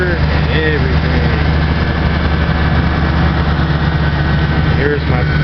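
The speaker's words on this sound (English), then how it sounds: "a little quick rev of the motor here" A rebuilt car engine idles with a steady, loud, low rumble that holds even throughout, with faint voices in the background.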